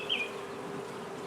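A large swarm of honey bees, the first to leave its hive, sets up a steady, dense buzz that stays even and fairly close from start to finish.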